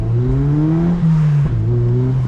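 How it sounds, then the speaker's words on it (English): A car engine revs up and down close by, its deep growl rising in pitch with a throaty intake whoosh layered over it. "getting that extra induction tone"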